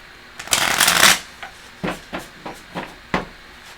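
Tarot cards shuffled by hand: one long riffling burst of about half a second, then several short separate card slaps and flicks at a steady rhythm, close and fairly loud, with no talking.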